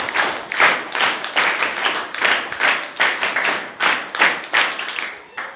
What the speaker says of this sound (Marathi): आपलं या ठिकाणी टाळ्या वाजवून त्यांचं सर्वांचं स्वागत केलं.